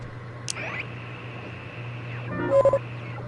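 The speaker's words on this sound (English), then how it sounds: "There's a dial tone" A telephone dial tone hums inside the video game Oxenfree, a steady low drone joined by brief tonal beeps and a short burst of dial-like tones near the end, with no talking.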